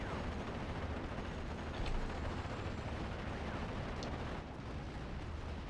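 Air strike explosions in the Steel Division World War II strategy game on the Carpiquet map, a continuous roiling barrage of blasts and rumbling detonations mixed with distant gunfire, loud and dense throughout with no pause.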